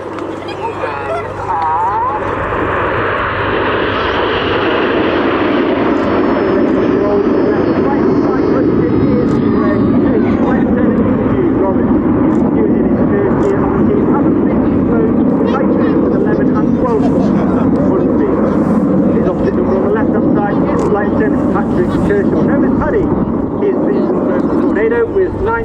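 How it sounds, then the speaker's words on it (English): Red Arrows jets flying formation aerobatics at the RAF Cosford Airshow 2022, a loud continuous jet roar sustained throughout while an announcer talks over it. "As Red Dawn brings the formation round to the right, get your cameras ready for the shuttle roll."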